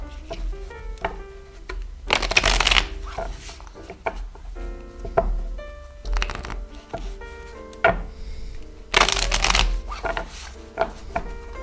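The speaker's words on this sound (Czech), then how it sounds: "Ještě cítím, že mám míchat." Tarot cards being shuffled by hand in several bursts of riffling and slapping, with clear rhythmic card noise between quieter pauses and no talk.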